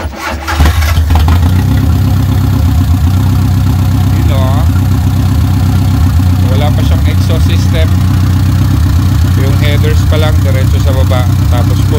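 Mitsubishi Lancer engine cranking and catching, then idling loud and rough without a muffler, a continuous throaty rumble with people talking over it.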